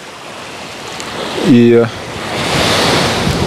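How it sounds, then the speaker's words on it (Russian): Gusty south wind and winter surf on the central beach at Anapa on the Black Sea, a steady broad roar of waves and wind with a brief voice cutting in near the middle. "Время от времени здесь, сейчас на центральном пляже, возникают порывы ветра."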